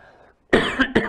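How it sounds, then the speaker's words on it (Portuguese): A single short cough followed by a quick second cough, close to the microphone, after a brief quiet moment. "tossinha"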